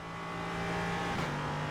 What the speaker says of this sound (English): Hope y'all are enjoying how naughty this car sounds, because it sounds incredible.